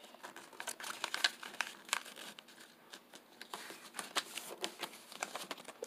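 Paper being folded into a paper airplane, close and quiet: irregular crinkles, soft creasing rubs and small rustling bursts with no talk.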